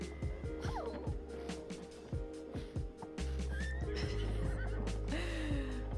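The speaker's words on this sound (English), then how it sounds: "Oh, two horses." Two horses in The Sims video game neigh and whinny in a few short, clear calls, with light hoof clip-clops over steady game background sound.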